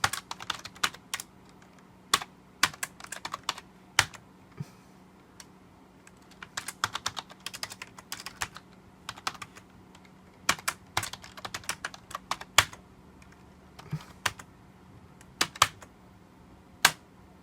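Someone types a command on a computer keyboard, bursts of crisp key clicks in irregular clusters with short pauses, close and fairly quiet over a faint steady hum, no talk.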